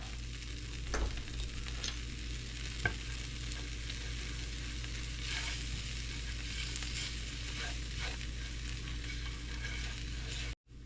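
A flour-and-butter roux for gravy is stirred in a pan, a steady soft sizzle and frying hiss running throughout with occasional scraping taps of the utensil, close and continuous.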